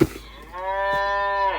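A cow gives a single sustained moo, close and clear, holding its pitch for over a second after a brief noisy start.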